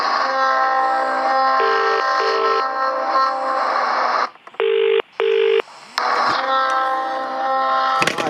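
Telephone dialing tones sound on a PMG 401 phone fitted with a Dial 21, loud steady tones broken by short paired beeps and brief gaps, then the tone resumes and ends with a click.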